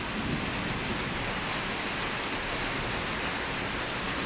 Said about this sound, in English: Some thunder.